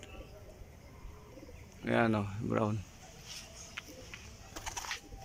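Racing pigeons coo in two short, throaty bursts close by, over a quiet background, with someone speaking briefly afterward.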